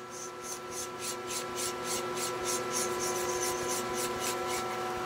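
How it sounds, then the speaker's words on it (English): A lathe file works 316 stainless steel spinning on a lathe, producing rhythmic scraping strokes about twice a second over a steady machine hum. "So I've been resorting to a lathe file"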